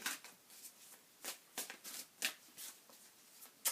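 Tarot cards shuffled and drawn by hand: a quiet, close run of crisp riffling snaps and soft slides, irregular and spaced through the stretch, with no voice over them.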